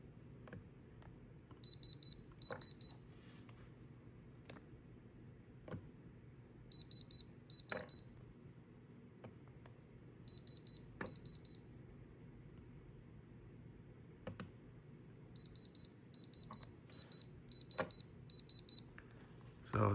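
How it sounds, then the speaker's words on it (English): A diamond tester beeps in short repeated bursts while checking the moissanite stones of a custom cross pendant, several clusters of quick electronic tones recurring over a low steady background hum, with no talking. "Like always, I'm gonna use the same diamond tester."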